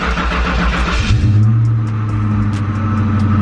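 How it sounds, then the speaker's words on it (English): A car engine cranks briefly, then catches and settles into a loud, steady idle at close range, after a breakdown that left the vehicle stranded. "The car does actually start."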